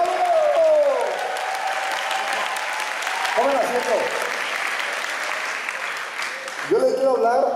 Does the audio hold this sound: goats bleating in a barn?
no